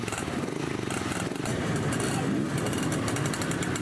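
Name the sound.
Simson off-road motorcycles riding on a motocross track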